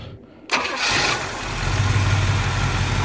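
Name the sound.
1970 Pontiac Firebird Formula 400 engine starting and idling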